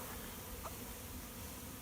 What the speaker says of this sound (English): there are thousands of bees flying in the air